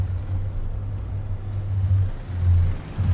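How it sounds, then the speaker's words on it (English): Deep, steady exhaust drone of a Western Star 49X truck pulling under load in American Truck Simulator, a low rumbling note with slight swells in loudness. "the beginning exhaust note sounds so good when it's under load"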